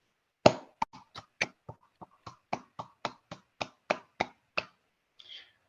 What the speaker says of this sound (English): Let's have another round of applause for David P. Miller.